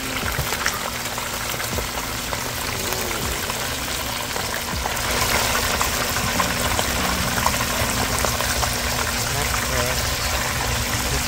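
Steady sizzling and bubbling of fish frying in hot oil, continuous and fairly loud, growing slightly stronger partway through.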